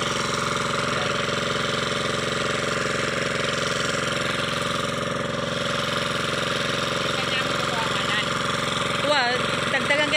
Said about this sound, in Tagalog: umandar na din yung makina.